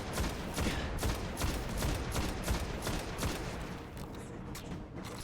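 Rapid gunfire from shooting at turrets in Destiny 2, a dense run of sharp shots close up and loud, continuing steadily with slight thinning toward the end, no talking.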